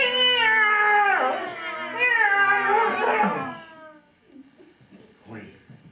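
A storytelling festival audience in Quebec imitates a cat, drawing out long, wavering meows together for several seconds, then trailing off into scattered quiet murmurs.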